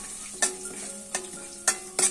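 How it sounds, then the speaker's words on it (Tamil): Chana dal, urad dal, red chili and ginger sautéing in oil, a soft sizzle cut by four quick clacks of a spoon against the pan, close and unaccompanied by voices. "கடலைப்பருப்பு உளுத்தம்பருப்பெல்லாம் நல்லா கோல்டன் கலர் ஆற வரைக்கும் வதக்கி எடுத்துக்கலாங்க."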